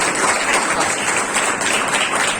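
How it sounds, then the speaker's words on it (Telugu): A church congregation claps their hands together in praise, producing dense, loud, sustained applause that fills the room evenly throughout. "చప్పట్లు కొట్టి దేవుని మహిమ పరచండి."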